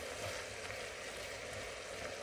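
Vegetables and garlic frying in a soup pot for zuppa toscana, a soft, steady sizzle that stays faint and even throughout.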